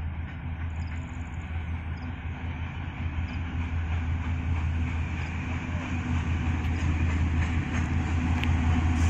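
A passenger train rolls steadily past at close range, a continuous loud rumble of wheels and carriages with faint rail clatter throughout.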